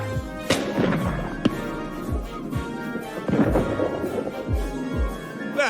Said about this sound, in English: Sometimes fireworks seem so close.